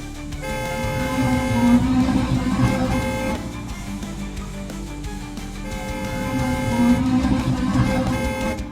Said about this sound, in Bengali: দুজনেই দ্রুত গতিতে গাড়ি ছোটাচ্ছে।